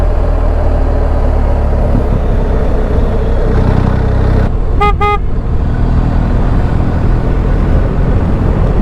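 A Denali Soundbomb Mini horn on a BMW R 1250 GSA adventure touring motorcycle gives two short, loud honks about halfway through, over steady broadband engine and road noise.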